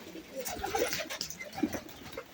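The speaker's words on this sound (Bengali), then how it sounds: "এই যে কবুতর কিন্তু বের হচ্ছে" Pigeons coo softly in short, repeated throaty calls, several birds close by on a cold day, with faint background noise.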